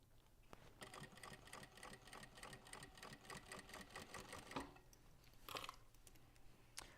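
A sewing machine stitches the cord onto a thick cotton fabric pack, a fast, steady mechanical needle rattle close by in bursts with brief pauses between runs.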